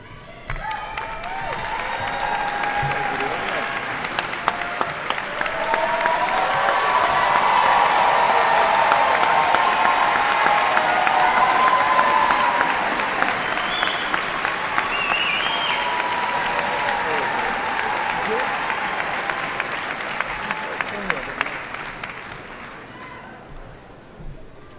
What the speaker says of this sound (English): let's give a warm round of applause to Briley and Melinda.